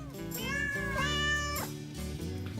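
A pet cat in a home kitchen gives a drawn-out meow with rising and falling pitch, close and fairly loud, with a second shorter meow following, alone without talk.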